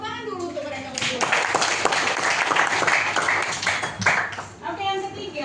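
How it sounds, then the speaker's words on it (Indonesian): Classroom students clapping for two classmates, a short burst of applause from a group that rises and fades, with a teacher's and children's voices speaking at the start and end. "Tepuk tangan dulu untuk mereka berdua."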